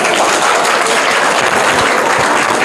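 Loud, dense applause from a studio audience at a quiz show, a steady wash of clapping filling the whole moment with no talk over it.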